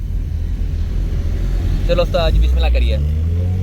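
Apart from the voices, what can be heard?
car driving fast on road, vibration test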